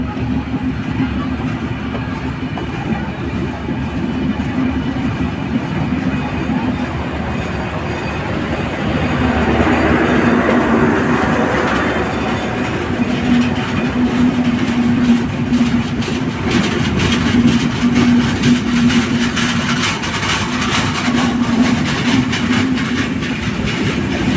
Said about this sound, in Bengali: এই ট্রেন চলে যাচ্ছে